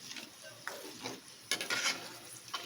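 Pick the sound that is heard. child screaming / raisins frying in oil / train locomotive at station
raisins frying in oil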